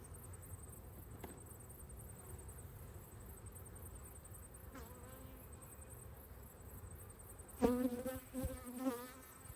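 A steady, faint hum of about 20,000 honeybees buzzing together at a backyard hive, with a couple of louder, closer buzzes near the end.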